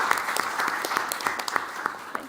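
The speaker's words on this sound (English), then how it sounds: "So a final round of applause to everybody" An audience at a youth leadership panel event gives a final round of applause for the panelists, a brisk crowd clapping with distinct individual claps popping out of the steady wash.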